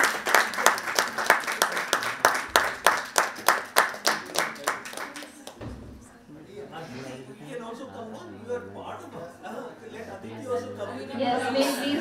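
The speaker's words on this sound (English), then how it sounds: "Can we clap for them?" A school event audience claps in a steady, rhythmic beat for several seconds, then the clapping fades into voices talking and background murmur.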